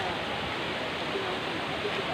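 The steady hiss of Tinuy-an Falls in Surigao del Sur, a broad continuous rush of falling water heard at a moderate distance, fairly faint and even throughout.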